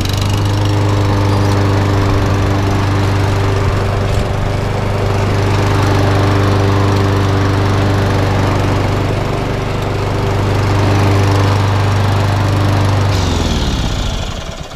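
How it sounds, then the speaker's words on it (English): Small Briggs and Stratton walk-behind lawnmower engine running steadily, a loud continuous drone with a strong low hum that holds throughout and winds down slightly at the end. "so that's that little lawnmower up and running"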